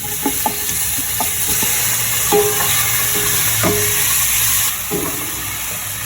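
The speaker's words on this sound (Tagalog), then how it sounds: "Gisa-gisahin lang natin ito hanggang sa maging aromatic at inilagay ko na nga rin dito yung kamatis." Garlic, onion and tomato sauté in a hot pan, a steady bright sizzle punctuated by a series of scraping stirs and clinks of the spatula, close and continuous.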